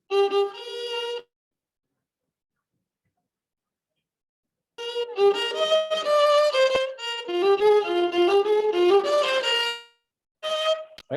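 A Western chord built from the same seven notes as the Carnatic raga Shankarabharanam, heard as a short sustained harmonic chord, then after a pause a busier run of overlapping tones and chords, and a final brief chord near the end.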